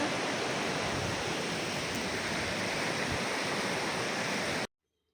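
Loud, steady broadband rush of a waterfall heard along a walking path toward the falls, continuous and close with no voices, cutting off abruptly near the end.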